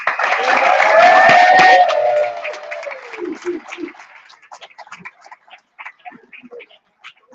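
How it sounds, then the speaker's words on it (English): Supporters of the Brickyard Battalion and Indy Eleven in a room let out a loud, sustained cheer, then it trails off into sparse, scattered claps that fade to near silence. "we're going to put a round of applause for our boys in blue"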